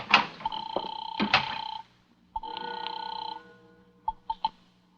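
A telephone rings in an old-time radio thriller: two loud, close bursts of bell-like ringing with a short pause between, followed by a few brief clicks.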